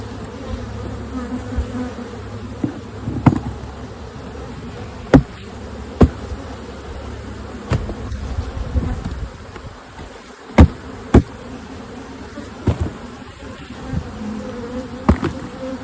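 Honey bees buzz steadily around nuc hive frames of brood and foundation, a dense close drone broken by sharp knocks and clicks, with no talk.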